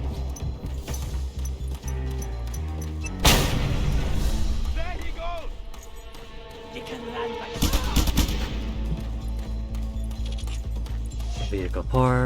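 Video game combat: a loud blast near three seconds and another burst near seven and a half seconds over dense, continuous gunfire, with game music and effects running throughout.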